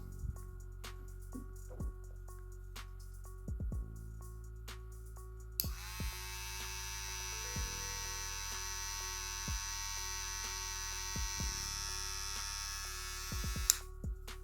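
A Kemei electric hair trimmer (KM H71/H72) switches on partway through, its motor buzzing steadily and loud close by, after some quieter handling clicks and a low background hum.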